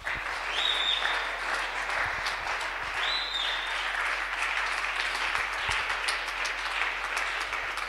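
A church congregation stands and applauds during a sermon, steady dense clapping filling the whole stretch with a few cheers and whoops rising above it, no speech over it.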